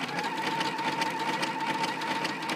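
A Pfaff Quilt Ambition 2.0 sewing machine runs an overlock stitch, a fast steady mechanical whir with a constant hum, close and continuous.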